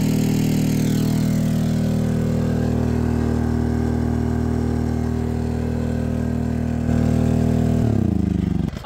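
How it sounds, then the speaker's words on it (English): A 1600 watt generator running overloaded, a loud, steady droning engine hum close by that holds constant and then briefly shifts and strains near the end. "my generator is too small to charge the Blue Yeti. It's only a 1600 watt and it's pulling 1700, which means it's overloaded"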